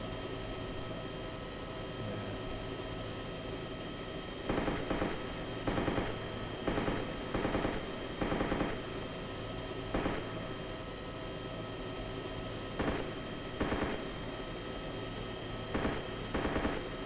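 Bursts of gunfire from a helicopter in DayZ, short clusters of rapid shots repeating at irregular intervals over a steady rotor and engine drone.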